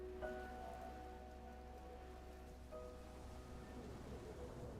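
Soft, steady rain patters in the video game Enshrouded, a faint even hiss with a low hum and brief tonal game sounds over it.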